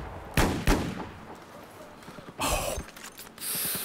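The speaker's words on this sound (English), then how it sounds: "And that Deagle shot right there, that was so dirty." Desert Eagle pistol fire in Battlefield 4 on the Golmud map: two sharp, loud cracks close together early on, followed by more bursts of gunfire and battle noise.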